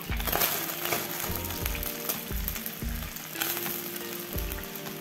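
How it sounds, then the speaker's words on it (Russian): Chopped yellow onion sizzles in a frying pan just after turkey steaks were seared in it, a close, steady hiss with faint stirring bumps throughout. "Кладу в сковороду свой нарезанный репчатый лук"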